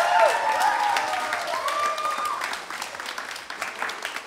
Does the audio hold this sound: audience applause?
yes